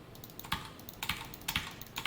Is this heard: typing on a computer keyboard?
yes